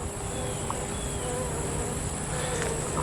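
A dense, steady hum of many Italian honeybees buzzing close by in a queenless hive during inspection, continuous and busy with no voices.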